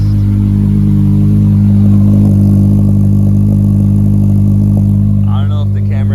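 An Acura TSX with a custom exhaust and an exhaust leak idles with a deep, throbbing rumble and a rough, uneven burble, loud and close throughout.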